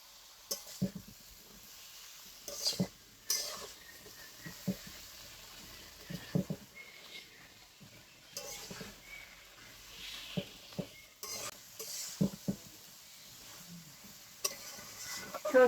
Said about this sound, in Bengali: সর্ষেটা দিয়ে সামান্য একটু কষাইয়ে নিলাম।